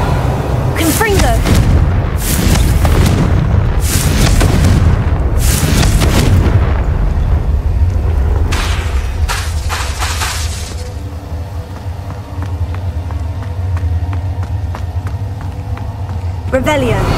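Repeated booming blasts from a Confringo fire spell in the Hogwarts Legacy video game, several loud explosive bursts in the first half, then rumbling game ambience with a voice speaking over it.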